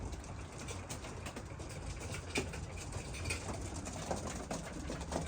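Racing pigeons coo softly inside a homemade wooden coop, a low steady murmur of several birds with faint rustling and scattered patter, continuous and moderately distant throughout.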